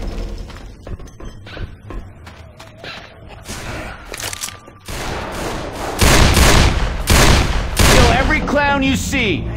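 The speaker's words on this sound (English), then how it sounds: "you do realize that you're shooting me, right?" Rapid gunfire from the video game Left 4 Dead 2, dense bursts of shots with frag rounds mixed in, loud and continuous, growing heavier midway with voices talking over it.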